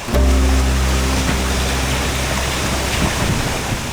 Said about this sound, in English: now we are at massive waterfalls